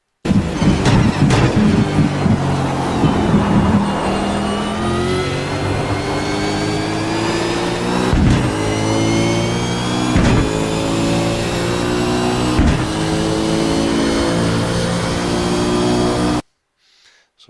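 Onboard a V8 race car lapping the Montreal track, the engine screaming loud and close through repeated rises in pitch with sharp drops at each gear change, ending abruptly.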